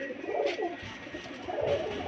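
Pigeons coo softly in low, rolling throaty murmurs that repeat steadily, close by and with no talking; male and female pigeons kept by a fancier in Beldanga.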